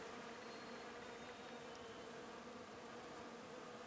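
A steady, dense hum of many honeybees and a few large bumblebees buzzing together on cherry blossoms, continuous and even throughout, fairly close with no voices.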